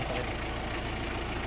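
A Mitsubishi L300 engine idling after ten minutes of running, a steady, dense mechanical hum close by with no change in pace, no voices.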